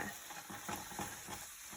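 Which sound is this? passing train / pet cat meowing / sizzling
sizzling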